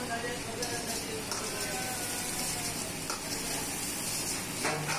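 Ginger and chopped green chili frying in a pan for restaurant-style veg noodles give a steady, soft sizzle with faint stirring scrapes, heard close and continuous without a break.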